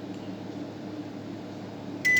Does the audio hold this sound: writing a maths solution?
no